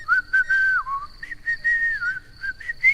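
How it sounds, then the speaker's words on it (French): A person whistles a bright, wavering melody of short phrases and sliding notes, close and clear, with no talking. "Et moi, je siffle. Écoute."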